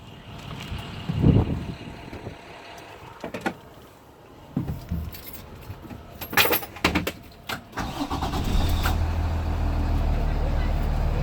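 A 2018 IC CE school bus engine starts outdoors after some clatter and knocks, then settles into a steady low diesel rumble. People talk nearby.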